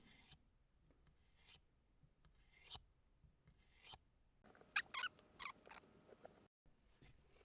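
A knife scrapes across a cheap sharpening stone in soft, faint strokes, several evenly spaced rasps followed by a short flurry of scratchier, brighter grinding close by, with no talking.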